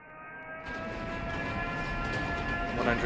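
A subway train in a Minecraft NYC subway build runs along its track with a steady rumbling drone and faint whistle-like tones. The sound starts abruptly and continues without pause.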